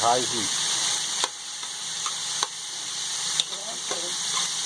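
Meat for a Peruvian-style pot roast searing in a pot over high heat, a loud steady sizzle with occasional clanks and taps, and a brief voice at the start.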